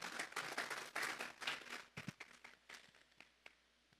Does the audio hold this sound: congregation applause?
yes